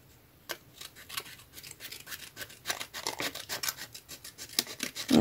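Scissors snipping and slicing through paper and card for a vintage scrapbook card, a run of close, crisp cuts that grow denser and louder toward the end.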